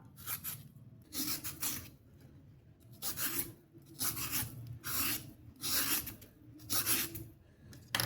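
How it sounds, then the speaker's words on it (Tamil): A raw banana's skin is scraped off with a peeler in a kitchen, producing a regular series of rasping strokes, about one per second, soft and close with no talking. "வாழைக்காயை இந்த மாதிரி தோல் சீவிக்கலாம்."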